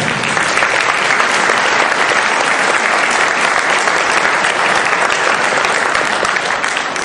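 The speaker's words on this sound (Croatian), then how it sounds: "molim vas jedan aplauz" Loud, sustained applause from a large audience at an athletes' awards ceremony, dense clapping that holds steady from start to finish.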